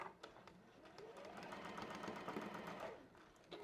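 A Juki sewing machine stitches steadily at a fast, even pace, its close mechanical whirr and rapid needle clatter running almost the whole time before briefly easing near the end.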